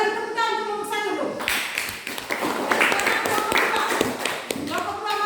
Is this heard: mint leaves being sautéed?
no